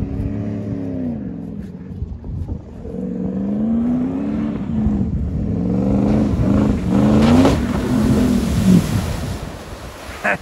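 Dodge 4x4 truck engine revving hard while doing donuts in deep mud, a loud continuous roar with rising and falling surges, splashing and wind buffeting over it, no talking.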